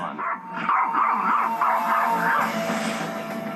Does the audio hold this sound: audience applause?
no